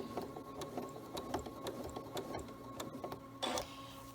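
A sewing machine stitches in the ditch with thin 100 weight thread, a steady, fast mechanical hum with regular needle ticks running continuously at close range, with one louder burst near the end.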